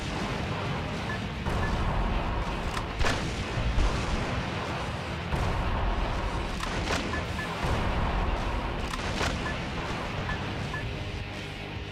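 A rocket launcher fires in the Yars Recharged video game, making a dense, continuous roar of heavy booming blasts, with several sharper explosive cracks spaced through it at close range.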